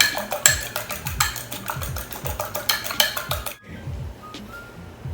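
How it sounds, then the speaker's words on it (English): A fork or whisk beats an egg in a bowl with quick, rhythmic clinking strokes, loud and close, for about three and a half seconds before stopping. "crack open one egg. Be sure to beat it and mix it well."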